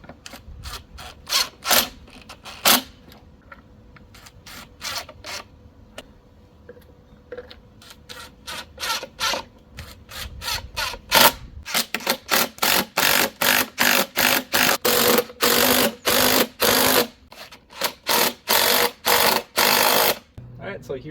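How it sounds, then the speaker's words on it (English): Large screws are driven into a hose reel mount with a power drill, heard as many short whirring bursts, sparse and irregular at first, then rapid and steady, close and loud. "Now I'm going to go ahead and screw this in."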